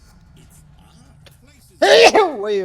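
A single loud sneeze bursts out near the end, close and sharp, following a stretch of quiet background with faint game sounds and brief talk.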